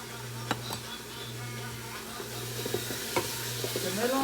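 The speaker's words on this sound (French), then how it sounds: "Je mélange." Vegetables with grated tomato, carrots, coriander, mushrooms and onions being stirred in a soup pot, a steady low hum and soft sizzle under scraping spoon clicks and knocks, brief faint voice near the end.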